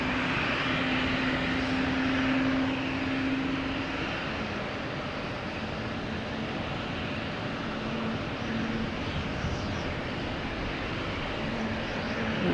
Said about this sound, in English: Alaskan Airlines coming in from Seattle.